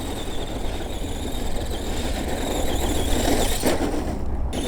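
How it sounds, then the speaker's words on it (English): An Arrma Voltage 2WD RC car drifts on dirt, its electric motor whining steadily and close under a continuous rush of tyre and gravel noise for several seconds. "Let's see if we could get a drift going."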